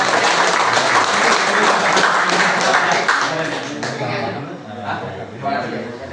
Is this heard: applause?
yes